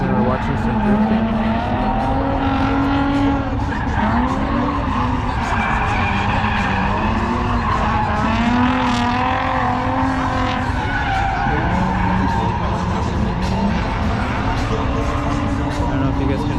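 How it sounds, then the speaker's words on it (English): Cars drifting at Fuel Fest, heard from the stands: continuous loud tire squeal and skidding with wavering pitch over roaring engines, while people talk nearby. "We're sitting up in the stands and we're watching some drifting."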